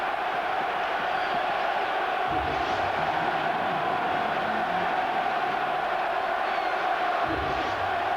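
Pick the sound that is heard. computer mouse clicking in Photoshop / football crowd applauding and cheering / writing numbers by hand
football crowd applauding and cheering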